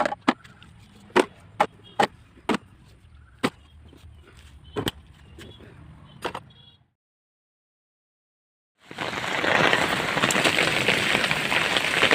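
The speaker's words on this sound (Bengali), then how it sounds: "বন্ধুরা কত ঝড় বৃষ্টি হচ্ছে দেখুন আমাদের এইখানে" A storm's heavy rain pours down as a loud, dense, steady roar over the last few seconds. Before it come a series of sharp, separate knocks and then a brief silence.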